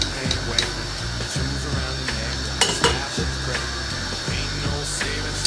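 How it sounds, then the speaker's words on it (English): Homebrew stout wort being sieved in a small pot, giving continuous metallic stirring and scraping with clinks of utensil against the pot over a steady bubbling, sizzling background; no voices. "I'm just gonna sieve it."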